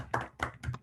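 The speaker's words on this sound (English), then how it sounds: "a round of applause." Applause closing an online history forum: a short burst of a few hand claps in quick succession, faint and close, with no one speaking.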